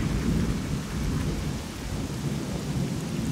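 Heavy rain pours steadily through a night thunderstorm in the video game S.T.A.L.K.E.R.: Call of Pripyat, with a continuous loud low rumble of thunder rolling under the dense hiss of rainfall, no voices.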